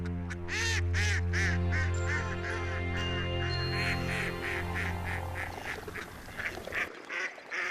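Ducks and Canada geese calling at a regional gathering spot, a dense run of repeated quacks and honks, loud and close, continuing for several seconds before thinning out.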